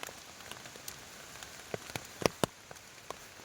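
Rain falling steadily outdoors as a soft continuous hiss, with scattered louder drops tapping close by, some sharper hits near the middle.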